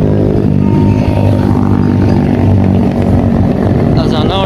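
Motorcycles moving through a crowded main bazaar in Dadyal, their engines rumbling and revving close by amid dense street noise and chatter, with people talking throughout.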